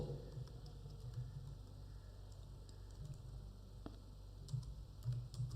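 Quiet typing on a computer keyboard, irregular soft key clicks in short bursts over a faint steady hum.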